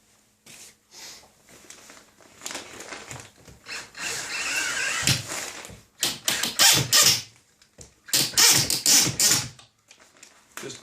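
A drill drives a 2.5 inch screw into a drywall patch with a missing stud, giving short bursts of whirring and grinding bite with clicks and handling noises between them, close and fairly loud.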